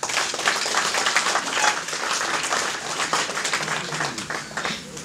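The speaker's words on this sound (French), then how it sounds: "Nous allons aussi applaudir ces mamans." An audience claps at a tenth-anniversary celebration of community associations, a dense, sustained wash of applause from a crowd that stays fairly even throughout.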